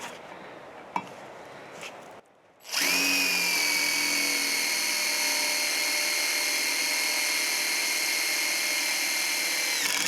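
A power drill drives a bit into a brake rotor between its cooling vanes with a loud, steady high-pitched whine lasting several seconds, after a brief quieter pause.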